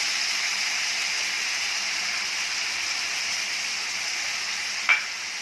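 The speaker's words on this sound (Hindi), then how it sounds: "अच्छे से मिक्स करेंगे इसको" Boiled taro (arbi) being stirred with whisked yogurt and green coriander in a pan, a steady soft bubbling sizzle throughout with one brief louder scrape near the end.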